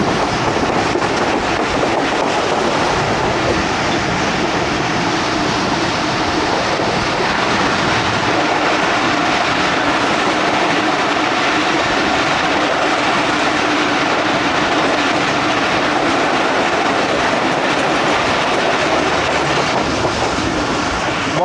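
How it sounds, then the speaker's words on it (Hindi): A 13UP Awam Express train runs through Sihala railway station at speed, passing another train held on the loop line, with a steady loud roar and continuous rumbling wheel clatter throughout. "सिहाला रेलवे स्टेशन आ रहा है और यहाँ पे 6 डाउन ग्रीन लाइन मौजूद है, उसको लूप लाइन पे रोका हुआ है, हम थ्रू पास करेंगे।"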